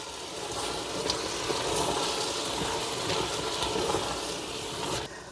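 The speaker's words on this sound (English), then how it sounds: "I'm going to stir a little bit more." Beef and vegetable soup being stirred in an Instant Pot makes a continuous loud hiss and bubbling sizzle close up, with faint scraping of the spoon running through it.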